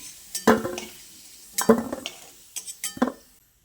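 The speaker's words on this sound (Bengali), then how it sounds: "এবার এই ভেজে নেওয়া আলুটাকে আমি একটা পাত্রের মধ্যে তুলে নিচ্ছি" Fried potatoes are scooped out of hot oil into a bowl while cooking a vegetarian cabbage dish, with several distinct clinks and scrapes of a spoon against metal cookware and a faint sizzle between them.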